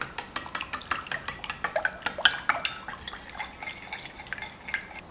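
Egg and water being stirred together in a bowl, with quick, close, uneven taps and sloshing clicks that repeat steadily and quietly.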